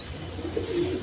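Pigeons kept in pairs with their young at a pigeon seller's coop give soft, low cooing over a steady background hum, brief and close.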